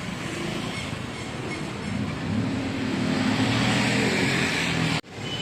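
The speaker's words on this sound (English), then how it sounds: "This traffic just seems to be getting worse and worse in this city." Steady roar of Bangkok street traffic, a dense wash of engines passing close by, building slightly, then cutting off abruptly near the end.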